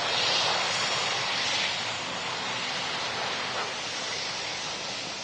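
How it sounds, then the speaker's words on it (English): Rolls-Royce-engined airliner at Manchester Airport, a broad steady roar that swells loudest at the start and then holds as a slightly softer, continuous rush without fading away. "lovely sound. Rolls-Royce engines."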